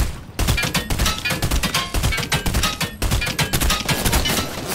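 Dense automatic gunfire in the video game Fortnite, loud continuous bursts of rapid shots close up, with only a brief pause before firing resumes.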